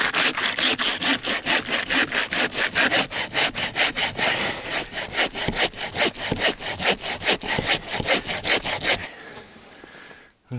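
Hand saw cutting through a wooden log for a post in a snowy forest, with close, loud, rhythmic back-and-forth strokes at a steady pace that stop near the end.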